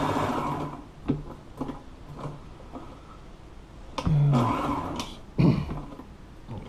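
A sewing machine stitches a seam in boat seat upholstery, running in short mechanical bursts with pauses between, the rapid needle chatter close and fairly loud.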